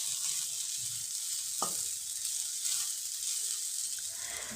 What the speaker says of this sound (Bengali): রুটি আর আলু ভাজা বানাচ্ছি